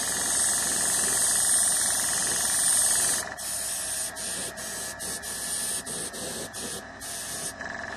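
An airbrush spraying paint onto a model ruined building, first as a steady loud hiss, then in a series of short, evenly spaced bursts as the trigger is pulsed, close and alone.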